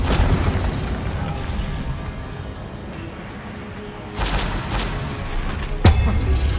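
Confringo fire spells in Hogwarts Legacy burst with low, rumbling booms over a steady roar of game ambience, followed by a sharp, close pop near the end.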